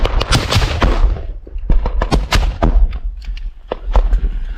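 Sharp blasts and cracking reports from a combat scene as a frag grenade goes off amid gunfire, several loud close impacts in quick irregular succession.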